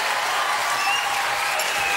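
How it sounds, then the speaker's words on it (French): Steady applause from a small crowd for a seahorse ice sculpture, with continuous overlapping clapping at moderate loudness and a faint voice now and then underneath. "Applaudissements même, messieurs, parce que c'est magnifique, vraiment magnifique."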